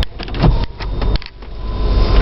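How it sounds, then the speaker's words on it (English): Power windows on a 2001 Range Rover moving up and down, a short whirring motor hum with brief stops and restarts, close and fairly loud, with no talk. "Rear windows go up and down with no problem."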